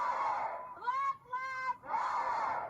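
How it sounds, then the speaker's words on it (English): Hundreds of student protesters chanting in unison as they march through St. Paul during a class walkout, a loud group cry that rises, pauses briefly and swells again. "Those are the words that a crowd of hundreds carried through St. Paul."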